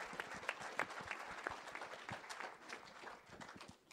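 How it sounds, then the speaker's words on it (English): A church congregation gives a full round of applause for youth group members returning from a trip, dense clapping sustained for several seconds with a few louder claps poking through, fairly close and steady before tapering slightly at the end. "how about a round of applause for them being brave"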